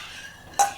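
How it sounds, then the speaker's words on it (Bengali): A metal tawa pan set down on a gas stove, one sharp clank near the end of a quiet stretch with a faint hiss of the burner beneath. "তাওয়াটা বসিয়ে দেব।"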